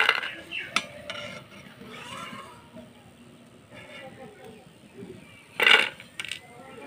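Peanuts finish frying in a pan and are scooped out with a utensil, giving light scraping and stirring sounds and a loud metallic clatter near the end, interspersed with soft rattles.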